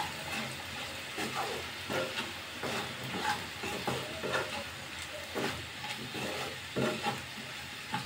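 Aloo besan sabji of potato and gram flour being stirred in a pan over a low flame, with a soft steady sizzle and repeated scraping strokes of the spoon, moderately close, with no talking.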